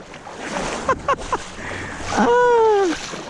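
Water splashes and swirls as people wade across the Russian River, loud close sloshing with a few sharp splashes, while voices shout and whoop over it.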